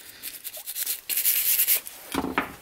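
Brake pads from a Jaguar XJ6 being brushed clean, close scratchy bristle strokes in short bursts, one longer scrubbing pass and then a couple of quick rubs at the end.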